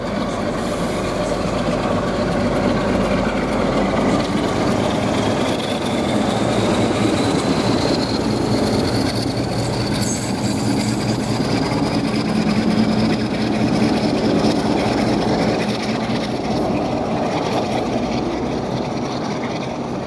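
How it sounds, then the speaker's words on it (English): Class 47 diesel locomotive 47739 pulls away at Nuneaton on the West Coast Main Line with a steady, loud engine drone and rumble that holds for the whole stretch, no voices over it. "and now departing we have 47739"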